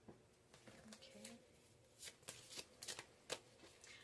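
Tarot cards are shuffled close to the microphone, a run of quick riffling and slapping bursts that come irregularly over quiet room tone.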